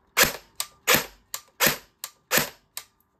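An FN SCAR-L airsoft rifle fires in a run of seven sharp, snappy bursts with brief gaps between them, loud and close, with no talking.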